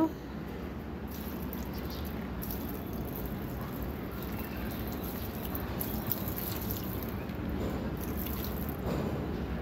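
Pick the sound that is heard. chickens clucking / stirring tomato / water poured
water poured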